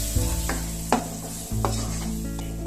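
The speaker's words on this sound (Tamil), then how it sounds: "இப்போ இதையும் நல்ல பழத்தோட வாசனை போற வரைக்கும் நல்லா கலந்து விட்டுக்கலாம்" Very ripe mashed banana is stirred in a pan, with a few soft scraping strokes of the spoon over a faint sizzle and a steady tonal background hum.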